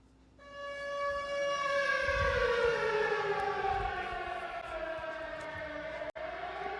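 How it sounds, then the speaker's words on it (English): Tornado warning siren at home, a loud sustained wail rising in and holding steady for several seconds, with a low rumble beneath and a brief click near the end. "That's the tornado siren."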